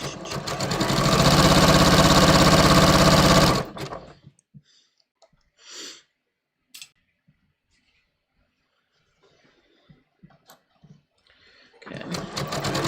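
A sewing machine stitches pleated fabric, running loud and steady for about four seconds. It then falls quiet apart from a few small handling clicks and starts sewing again near the end.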